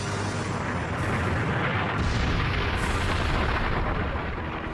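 A documentary sound effect of a celestial impact explosion: a loud, dense, continuous roar that rumbles for several seconds with no talking.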